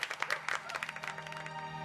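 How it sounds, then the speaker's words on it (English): Applause from an audience at a talk, a soft patter of scattered claps heard faintly at a distance, thinning out toward the end. "This applause is for you."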